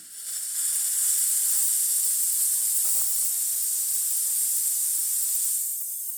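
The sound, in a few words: La Pavoni espresso machine steam wand hissing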